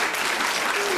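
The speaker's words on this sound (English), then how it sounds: "I think a round of applause for them" A studio audience at a 1977 TV panel game applauds the losing team, a brief burst of dense, even clapping close and loud throughout.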